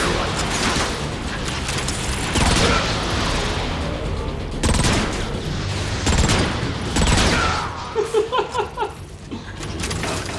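A riot cannon fires in the Transformers: Fall of Cybertron video game: loud, repeated blasts over a steady rumble of battle, ending in a quick run of shorter bangs.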